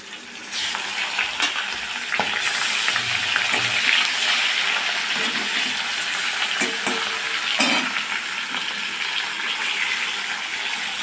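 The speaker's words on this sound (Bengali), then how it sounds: "এই যে মাছ সবগুলো আমি ভেজে নেবো" Magur catfish pieces coated in turmeric and salt fry in a little hot oil, sizzling continuously and loudly up close, with occasional pops, spatters and the scrape of stirring, and no talking.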